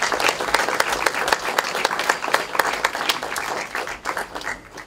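An audience at a school graduation ceremony applauds steadily, dense rapid clapping from a crowd that continues for several seconds before thinning out near the end.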